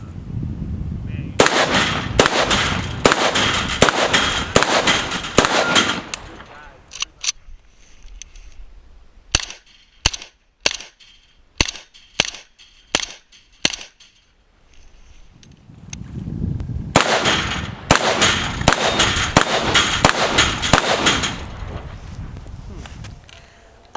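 An Arsenal SLR-104FR AK-74 rifle fired at an outdoor range: rapid bursts of loud, close cracks open and close the stretch, with a slower series of single spaced shots between them.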